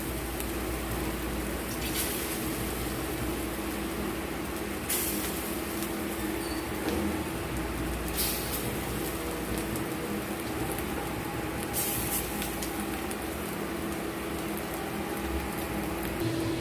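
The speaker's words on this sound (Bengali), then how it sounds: "এটা এভাবে আমরা সবগুলো ভেজে নেব।" Vegetarian snacks frying in hot oil in a pan, a steady dense sizzle and crackle that runs continuously throughout with brief brighter hissing bursts, fairly loud and close, with no voices.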